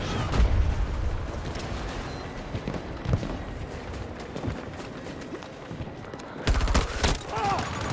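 Gunfire from a rarely used gun in Battlefield 2042 during a breakaway conquest match, a dense stream of shots and battle noise with a louder burst near the end, talk running underneath.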